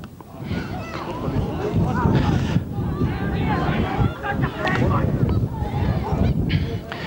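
Strong wind buffets the microphone at an outdoor Gaelic football match, an under-16 county final, with steady gusty rumble running throughout alongside crowd murmur and a commentator talking over it.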